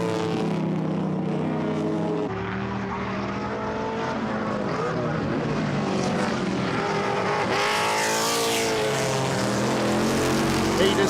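Race cars including a Chevrolet Camaro passing at Goodwood during a two-driver historic race, loud engine roars swelling and shifting pitch as cars go by, with a commentator talking over them.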